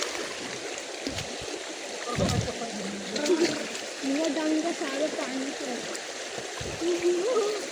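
A forceful stream flows steadily near a rugged rural track at night on a crab-hunting trip, a continuous rushing wash with occasional splashes, and people talk over the water.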